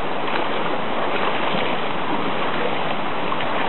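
Floodwater rushing across a forest trail in West Virginia like a river, a loud continuous roar of flowing water with no break, heard alone without talk.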